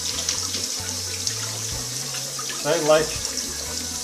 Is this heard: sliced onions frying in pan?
no